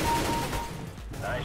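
A short burst of rapid gunfire in the shooter game CS:GO during a bomb-planted round, a quick fusillade of sharp cracks lasting about a second, loud and close under game noise.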